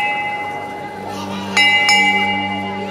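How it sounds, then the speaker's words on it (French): A bell rings out twice in quick succession during a Palm Sunday procession in Marbella, cueing the costaleros carrying the altar throne to lower it in unison. The bright metallic strikes sit over steady background murmur and a sustained tone. "Au son de la cloche, les portadores, à l'unisson, posent l'autel au sol."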